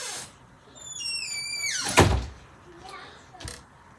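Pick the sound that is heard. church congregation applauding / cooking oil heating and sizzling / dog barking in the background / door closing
door closing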